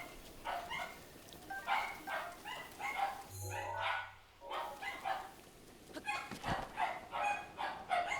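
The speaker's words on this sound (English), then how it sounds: "listen to that beautiful harmony of barking" Several dogs bark right outside a door in repeated overlapping bursts, fairly faint and muffled, with a brief pause midway and a low hum behind them.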